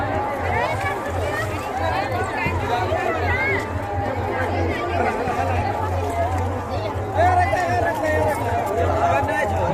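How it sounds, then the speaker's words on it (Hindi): Dense crowd babble at a Chhath puja gathering, many overlapping voices murmuring and calling out continuously at moderate volume, with a low steady hum underneath throughout. "भीड़ पूरा हो जाता है"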